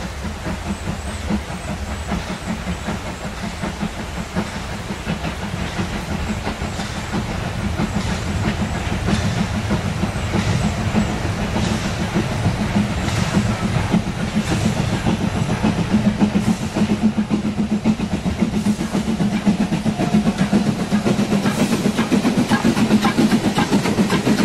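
A Krupp-built 2-6-2 tank steam locomotive from 1939 runs in Germany with a continuous loud chuffing hiss and rapid rhythmic exhaust beats, rail clatter underneath, steady and close for the whole stretch.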